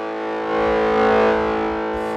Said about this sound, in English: the problem with a lot of these distortion pedals is